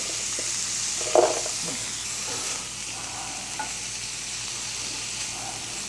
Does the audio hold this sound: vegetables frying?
yes